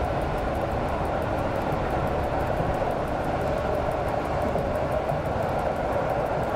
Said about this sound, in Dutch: Maar dit rijdt wel lekker. Mooi treintje wel, hoor.